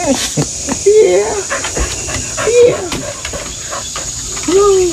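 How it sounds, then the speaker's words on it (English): A coon dog pants rapidly and lets out repeated high whimpers and whines, close and loud, with birds faintly audible in the outdoor background. "She thinks she's a coon dog."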